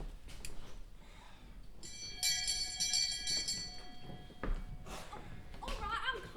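A doorbell at a house door rings out as a bright, sustained chime lasting about two seconds, with soft room noise and faint murmuring around it.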